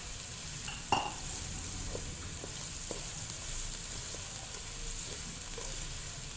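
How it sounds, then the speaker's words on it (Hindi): Onions frying in oil in a cooking pot, a steady soft sizzle running throughout with a brief clatter near the start and faint scattered stirring taps. "अब एक दूसरे बर्तन में हमने ऑयल ले लिया और साथ में हमने डाले हैं प्याज।"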